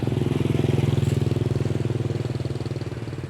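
A motorcycle engine heard close and loud, a steady low rhythmic putter that holds even throughout with only slight fading near the end, on a rural village road.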